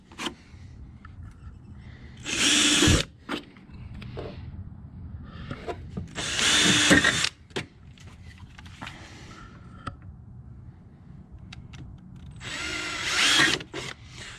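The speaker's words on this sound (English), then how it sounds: "now we use a 3/16 drill bit" Three separate bursts of a power drill with a 3/16-inch bit boring through material while fitting a snowdog chain guard, each lasting about a second, with quieter handling noises and clicks between them.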